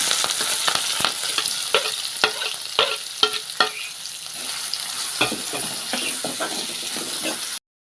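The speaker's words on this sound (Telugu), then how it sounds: "సో ఉల్లిపాయలు వేసుకున్నాం." Chopped onions sizzle in hot oil with tempering spices for an okra tamarind curry, a steady close frying hiss broken by repeated stirring scrapes and clinks, with no talking.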